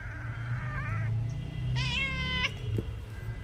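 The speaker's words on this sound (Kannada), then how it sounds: "ಅದು ಬೆಕ್ಕು" A cat meows twice close by, a drawn-out first call followed by a brighter, higher second one, with no talking over it.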